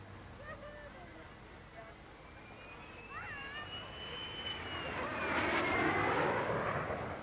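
De Havilland DH-110 jet fighter at the 1952 Farnborough Air Show, a faint, distant jet roar that swells toward the end under a crowd murmur and scattered voices, on an old recording.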